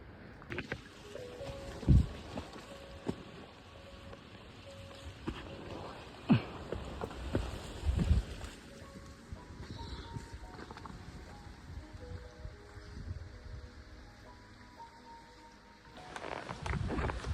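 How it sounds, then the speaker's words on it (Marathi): Strong gusty wind sweeps through the jungle on a foggy monsoon trek, a steady broadband rush with louder buffeting bursts, while faint tonal sounds come and go in the background. "भयंकर वारा आहे भयंकर हा वारा बघा"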